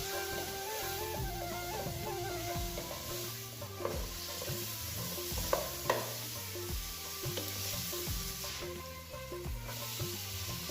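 Vegetables with turmeric fry in a pan, giving a steady, quiet sizzle with intermittent stirring scrapes, close and faint, with a low tonal hum running underneath.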